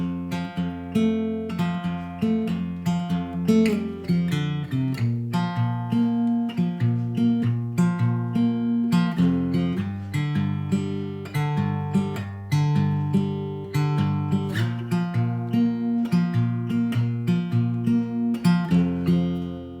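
Acoustic guitar picking a riff, played slowly on its own, with steady plucked notes that ring into one another at an even, close, moderately loud level.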